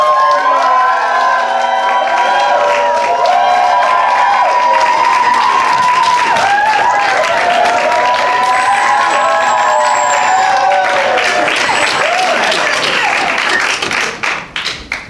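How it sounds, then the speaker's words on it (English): A crowd cheering loudly with whoops, shouts and scattered clapping, many overlapping voices sustained for a long stretch before tapering off at the end. "I need you to be cheering while I'm telling the one where they're at"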